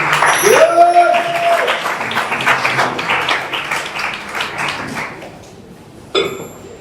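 A church congregation applauding and cheering in acclamation of the Lord, a dense burst of clapping and voices that gradually fades, then a short sharp sound at the end.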